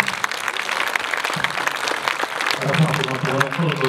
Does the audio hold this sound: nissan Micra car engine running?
no